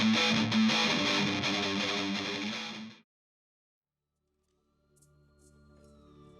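A Schecter Limited Edition A-6 Blackjack electric guitar plays loud, dense distorted tones for about three seconds, then cuts to silence before quieter ringing notes return.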